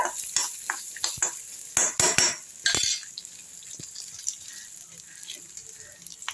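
Slit green chillies are lightly sautéed for a vegetable kurma, with a soft background sizzle under a burst of sharp metal spoon clanks and scrapes against the pan, fading to quieter frying.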